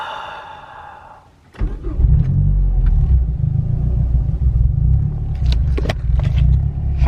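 A Mazda Speed 6 engine restarts with a quick crank, catches, and settles into a steady deep rumbling idle close by, with a few light clicks and rattles over it.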